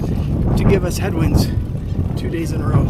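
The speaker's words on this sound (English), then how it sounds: "That wind changed 180 degrees to give us headwinds" Strong headwind on a bicycle ride between Hite and Blanding, Utah, buffeting the microphone as a rough, low roar under a man's speech.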